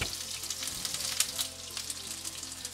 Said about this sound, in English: Pan's up to heat, in go your onions.